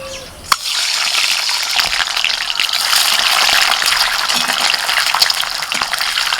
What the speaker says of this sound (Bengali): কড়াইতে তেল দিয়েছি তেলটা গরম হয়ে গেছে এখন ডিমগুলো হালকা করে ভেজে নেবো